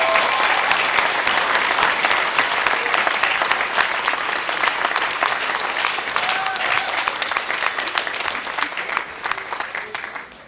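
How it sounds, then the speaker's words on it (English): Sustained applause from a crowd at a 2021 high school graduation ceremony, a dense continuous clatter of many hands clapping that holds steady for about ten seconds and then begins to taper off. "can we give them one big round of applause,"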